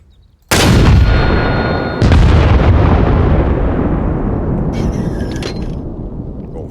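Artillery fire in the video game Arma Reforger, aimed into a forest: two very loud booming shots about a second and a half apart, each trailing off into a long rolling echo.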